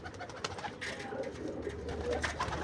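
Pigeons coo in low, throaty bursts, several birds close by overlapping one another against a soft background murmur.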